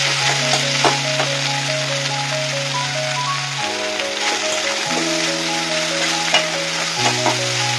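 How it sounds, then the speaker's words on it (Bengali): Chicken frying in a pan with onion, capsicum and green chili, a loud, steady close sizzle throughout, with a sustained tonal hum in the background and occasional light clicks of stirring. "এর মধ্যে আমি দিয়ে দেবো পেঁয়াজ, ক্যাপসিকাম আর অল্প একটু তিল, মানে কাঁচা লঙ্কা। এটাকে দিয়ে ভালো করে আমি ফ্রাই করে নেব।"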